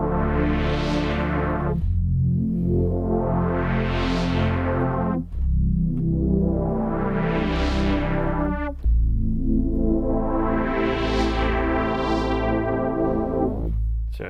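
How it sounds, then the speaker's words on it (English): Analog-style synth patch in Arturia Pigments 3 through a Jupiter-8 filter with an added envelope, playing four loud, sustained swelling notes whose filter sweeps open and closes, alone with no talk. "a simple analog sound on which I applied this new filter we just talked about"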